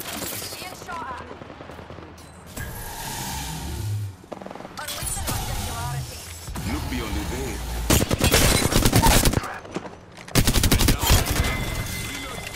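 Gunfire in an Apex Legends match, with rapid automatic bursts and single shots coming in loud clusters across the clip, plus game voice lines between the volleys.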